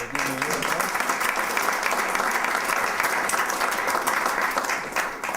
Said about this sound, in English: And we'll give you a little applause.